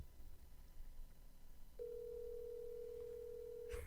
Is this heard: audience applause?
no